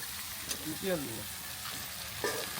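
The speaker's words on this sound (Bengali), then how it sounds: "এবার দিয়ে দেবো রসুন বাটা" Garlic paste goes into frying spices in a pan for a village-style kuche fish curry, bringing a continuous close sizzle broken by a couple of brief stirring scrapes.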